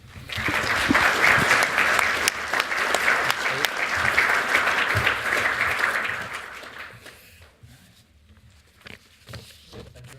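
An audience claps for a panel of speakers: dense, loud applause sustained for about six seconds, then tapering off into scattered claps and quiet room noise.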